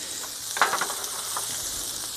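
Fillet steaks sizzle on a grill in a steady broadband hiss, with a few brief louder pops and crackles rising near the start.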